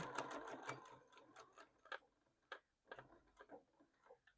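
A hand-cranked sewing machine stitches fabric with quiet, uneven clicking and ticking, faster at first and then slowing into separate taps, close and faint.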